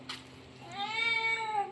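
A cat gives a single drawn-out meow, quiet and fairly close, rising and wavering after a brief soft sound, with no voices.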